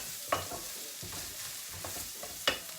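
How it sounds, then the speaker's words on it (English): Mince curry with fresh thyme stirred in a pot, a spoon scraping and clacking twice against the side over a continuous low sizzle of frying, close and with no voices. "I'm just giving this a nice stir."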